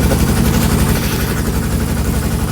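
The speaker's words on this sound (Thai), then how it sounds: "เสียงเครื่องมันค่อนข้างดังนะทุกคน" A farm engine runs loudly nearby at a steady idle, a heavy, continuous low rumble with vibration and no pauses.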